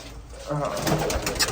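Pigeons coo softly nearby in low, throaty rolls, with a voice speaking over them.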